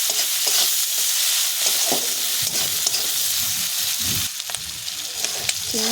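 Prawns frying with green and ripe red chillies are stirred in a hot pan, a steady sizzle running throughout with repeated scraping strokes of the spatula, close and fairly loud, no talking.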